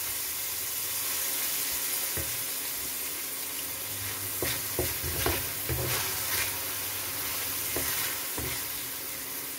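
Scallops and garlic sizzle quietly in a pan, with a soft, even frying crackle broken by several sharper scraping stir strokes.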